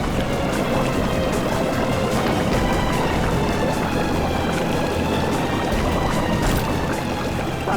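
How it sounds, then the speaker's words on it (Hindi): Water rushing and pouring steadily into a boat, a dense, continuous wash of splashing and churning that stays loud and constant throughout, with no clear voices. "सर, पानी भर रहा सर।"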